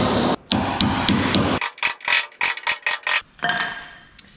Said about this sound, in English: When you're using the hammer and chisel, you can chisel up to it where it basically this chisel stops.